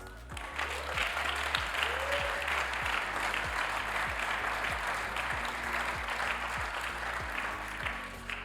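Sustained applause from a congress audience, dense and even clapping filling the whole stretch at moderate loudness without a break.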